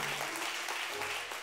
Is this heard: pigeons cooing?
no